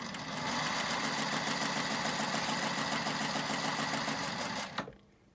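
A sewing machine stitching a quilt block runs steadily at a fast even rhythm, close and moderately quiet, then stops abruptly near the end.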